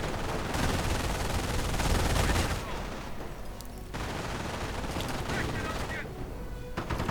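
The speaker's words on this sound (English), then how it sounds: "Snipers firing away" Sniper rifle and machine gun fire rattle through a World War II real-time strategy battle, with dense overlapping gunshot bursts, a heavier volley around the second second, and continuous combat noise throughout.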